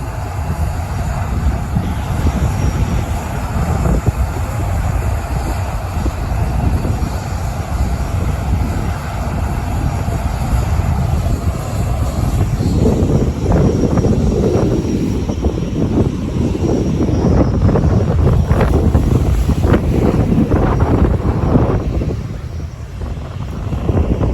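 Jet airliner engines roaring at takeoff at Sint Maarten's beachside airport, a loud sustained blast that swells midway, buffeted by heavy wind noise on the microphone.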